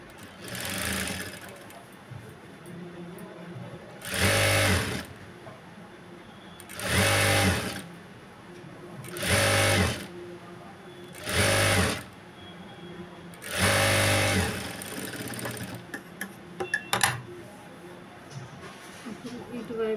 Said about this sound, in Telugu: ఇక్కడ అనేది కొంచెం హోల్డ్ చేసి కుట్టుకోవాలి హెడ్జెస్